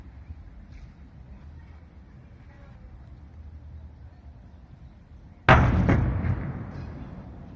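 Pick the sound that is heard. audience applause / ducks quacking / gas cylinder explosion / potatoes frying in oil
gas cylinder explosion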